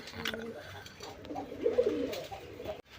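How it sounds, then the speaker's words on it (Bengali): Tiger Golla pigeons cooing close by in a pen, a few soft throaty coos rising in the middle with faint background noise. "বন্ধুরা এখানে একদম টাইগার গোল্লা কবুতর আছে দেখেন"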